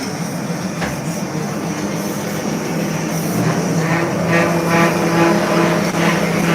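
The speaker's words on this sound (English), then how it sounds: "We got the dust collection system going." Dust collection system running in a woodworking shop where truck stereo enclosures are built, making a loud, steady roar with a faint whine on top that swells slightly toward the end.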